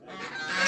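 Geese honking in a loud, continuous chorus of overlapping nasal calls at a rural Bucovina homestead, building slightly in volume over a brief moment with no speech.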